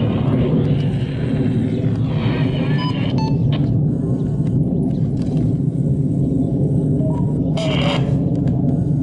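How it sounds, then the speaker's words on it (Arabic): Russian military warplanes flying overhead during airstrikes on the southern Aleppo countryside in Syria, heard as a loud continuous engine roar and rumble with shifting tones and a few brief higher surges. "طيران روسي على ريف حلب الجنوبي. طيران مكثف."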